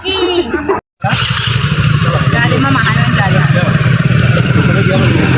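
A motorbike engine runs steadily and close by at a family outing to a fair, a continuous rumbling drone with clatter, briefly cut out near the start, while people talk over it.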